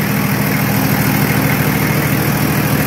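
A Nissan Patrol with a TD42 diesel engine idles steadily after nine months in storage, a close, constant low rumble with even vibration and no talking.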